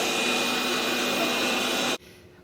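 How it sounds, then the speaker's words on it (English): A Lefant vacuum cleaner runs with a loud, steady whirring whine at close range, then cuts off abruptly near the end and leaves only faint room noise. "This vacuum has been running for over 2 hours and I was shocked."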